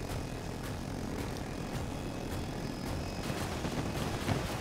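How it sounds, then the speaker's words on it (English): An attack helicopter in the Battlefield 2042 video game, a Hind, gives a steady, fairly loud rotor and engine drone. It holds throughout with faint distant bangs of combat and no talk. "I need you to shoot this attack chopper."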